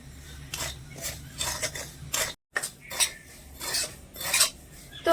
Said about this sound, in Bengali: এবারে নেড়ে চেড়ে সুজিটা আমি একদমই হালকা আছে ভেজে নেবো